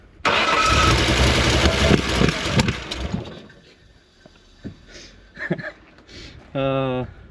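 A Reliant Scimitar GTE engine runs with the choke closed, a loud rough roar for the first three seconds that then drops away, leaving scattered faint knocks and a short tonal whine near the end.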